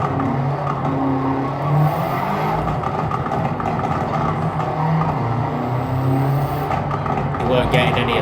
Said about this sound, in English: you need to do half a lap before it really starts burbling the car